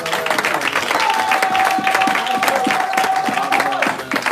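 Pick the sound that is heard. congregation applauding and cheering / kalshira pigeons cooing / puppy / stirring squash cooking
congregation applauding and cheering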